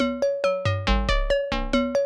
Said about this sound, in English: This one is a music box.